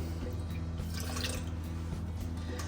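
Water trickles into a measuring cup while a gluten-free sourdough starter is made, a soft, steady dribbling sound over a constant low hum.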